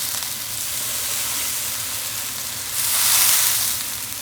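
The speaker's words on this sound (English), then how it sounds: "So now the Coca-Cola chicken wings are boiling" Coca-Cola chicken wings cook in a pan, giving a loud, continuous sizzle and bubbling hiss up close that swells briefly toward the end, with no voices.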